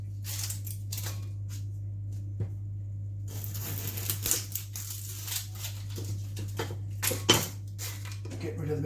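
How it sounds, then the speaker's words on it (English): Close knife cuts and taps on a cutting board while topping and tailing an onion, a few sharp clicks and scraping rustles over a steady low hum, with quiet pauses between. "So take our onion, just top and tail it."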